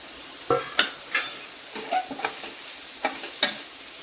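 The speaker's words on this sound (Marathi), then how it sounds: "आणि हा बटाटा, ढोबळी आणि गाजर किसले ते आपण यामध्ये परतून घेऊ चांगलं।" Grated potato, capsicum and carrot frying with ginger in a pan, a sizzle under repeated close scraping and clattering stirs that come in irregular strokes, with no voices.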